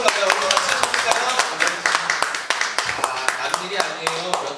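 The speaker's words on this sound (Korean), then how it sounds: "우리 박수를 같이 쳐볼까요?" A youth church congregation claps together in a steady rhythmic beat, many hands sounding close and fairly loud with fast regular claps that carry on throughout, while voices speak and sing over them.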